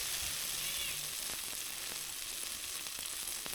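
Eggplant sizzles in hot oil over already-fried tomatoes for a Bengali begun bhaji, a soft, even hiss with a few faint clicks and no talk.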